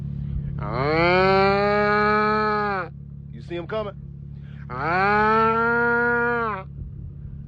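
Cattle give two long, loud moos, close by, with a short burst of a man's speech between them.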